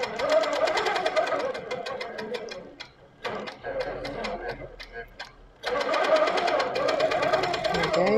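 A Sweet 16 sit-down longarm quilting machine on an Insight table stitches in rapid, steady bursts, pausing around the middle before running again, with people talking throughout.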